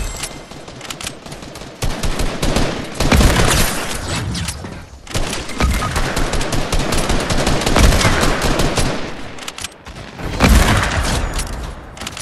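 Rapid automatic gunfire in a Fortnite match, with dense bursts of shots and booms running nearly continuously, loud and close, with brief lulls between volleys.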